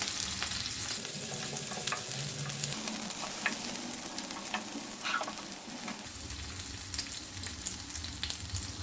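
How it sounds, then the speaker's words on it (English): A basa fish fillet shallow-fries over a medium flame, sizzling steadily in a hot pan with constant crackling and spitting, occasional sharper pops, and a brief change in tone partway through. "Fry until golden brown in medium flame."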